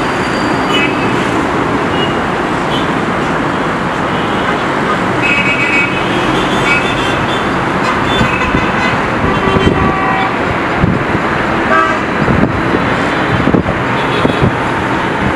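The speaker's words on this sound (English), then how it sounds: "you could hear quite substantial noise coming from the roadway" Continuous dense road traffic noise in Cairo, heard from a high hotel floor, a steady roar of engines and tires with scattered car horn toots rising over it toward the end.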